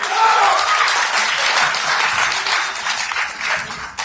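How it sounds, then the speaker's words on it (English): Steady applause from a comic convention crowd, many hands clapping continuously for several seconds at an even level. "If we could please make a round warm of applause for Tia and Kohei"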